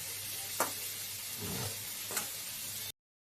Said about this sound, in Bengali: যতক্ষণ না মশলাটা ভাজা হচ্ছে ততক্ষণ আমি এটাকে এইভাবে নাড়িয়ে চাড়িয়ে একটু ভালো করে ভেজে নেব।